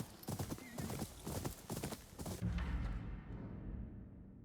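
Horses gallop with a steady clip-clop of hooves and a whinny in Ghost of Yōtei, loud and close for the first seconds, then the hoofbeats blur into a heavier rumbling run as the high end fades.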